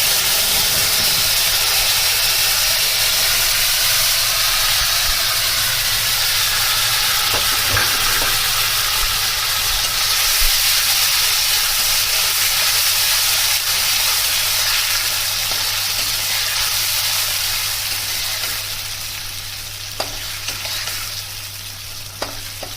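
Sun-dried rice is tossed into hot oil in a pan with bay leaf and dried chili for a Bengali muri ghonto. It sizzles and hisses steadily and loudly close by, with occasional stirring clicks and a faint background hum.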